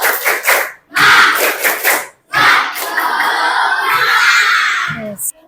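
Schoolchildren at an elementary-school health talk do a rhythmic group clap-and-shout cheer, loud bursts of clapping and chanting voices separated by short pauses, ending in a sustained shout.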